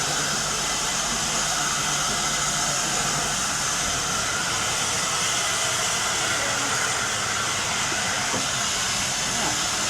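A steam vent used for cooking at the Beppu hot springs gives a loud, continuous broadband hiss and roar that holds steady and close for the whole stretch.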